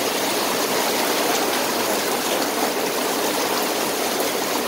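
Typhoon Kristine's downpour roars as a constant, loud wash of rain, steady from start to finish with no talking.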